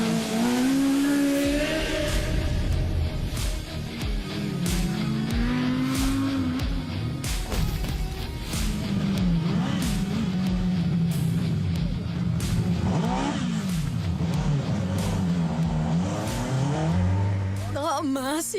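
A Ferrari Monza SP2 brakes hard and drops down through the gears before going to full throttle, its engine note swooping up and down loudly with a brief tyre squeal near the end.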